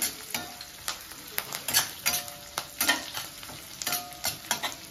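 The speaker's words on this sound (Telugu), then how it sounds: "ఇదండి చిల్లీ, ఒక్క నిమిషం అట్లా ఫ్రై చేసుకొని" Chilli chicken frying in a pan for a restaurant-style dish, with a steady close sizzle and repeated sharp stirring scrapes and clinks of a utensil against the pan, no voices.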